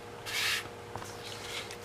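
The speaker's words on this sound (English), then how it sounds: "it's good to have a spray bottle that you can just dampen the fabric with" A hand spray bottle mists water onto fabric being worked over a circle template: one short, hissing spray burst close by, followed by quiet rubbing and handling noises.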